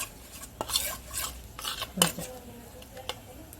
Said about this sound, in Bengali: আর দিয়ে দিচ্ছি দুধ এই যে এই দুটো আমি এরকম করে মিক্সড করবো